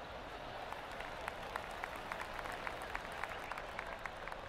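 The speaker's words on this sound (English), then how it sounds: "Crowd's loving it." Virtual gallery applauding in the PGA TOUR 2K23 golf video game, a steady, fairly quiet patter of many hands clapping at a distance, with no talk over it.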